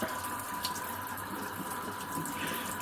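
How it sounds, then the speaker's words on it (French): Steady stream of water running from a large Auralum basin faucet set to cold, a constant close splashing hiss with no pauses and no voices. "on a un filet d'eau très sympa comme ça qui fait penser un peu à une fontaine"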